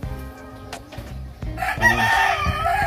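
A rooster crows nearby, its long strained call rising over the second half, with softer clucks and low farmyard sounds before it.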